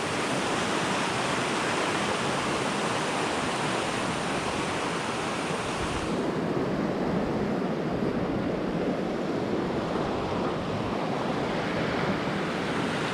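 A river near Tamanawas Falls in the Mount Hood National Forest rushes in a steady, broad roar of flowing water, loud and continuous throughout with some wind buffeting, no voices heard.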